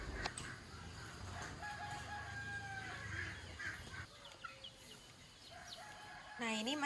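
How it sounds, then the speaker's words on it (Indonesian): Village chickens stir at dawn, clucking softly at a distance, with a rooster crowing near the end amid other faint bird calls. "Ayam-ayam kami sudah pada bangun, sudah pada nyari makan dia"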